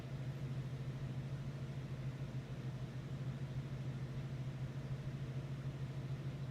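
A Subaru EJ20 engine idles with a low, even droning hum that stays steady and fairly faint throughout, alone without voices.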